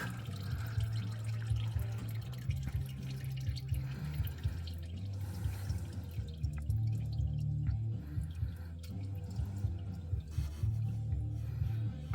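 Hot engine oil drips steadily from a 2024 Chevy Trailblazer 1.3L during an oil change, soft wet drips close by over a constant low hum.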